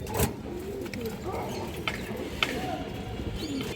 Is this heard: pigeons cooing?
yes